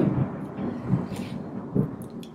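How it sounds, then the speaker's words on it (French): Low, rumbling thunder from a heavy storm rolls in a few soft swells, distant and muffled, with no voices. "Gros orage là, hein."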